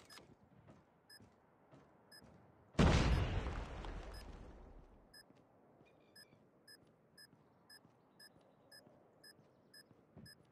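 A grenade in the Call of Duty Mobile video game goes off with a single loud, sudden blast that rolls away over a few seconds, while small electronic beeps tick along before and after.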